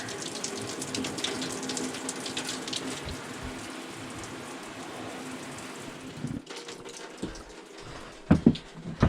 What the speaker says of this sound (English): You got hot water.